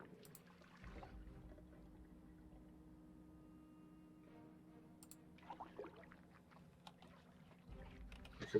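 Water fills a container in the Project Zomboid video game, a soft steady trickle running for several seconds under low ambient game noise, with a few faint clicks and rustles near the end.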